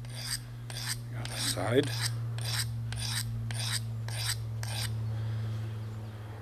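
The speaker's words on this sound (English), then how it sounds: "we'll start by the rough side and then go and sharpen it a little bit" A D2 steel knife is drawn across the rough side of a sharpening stone in about ten evenly spaced rasping strokes, close and crisp over a steady low hum, with brief speech midway.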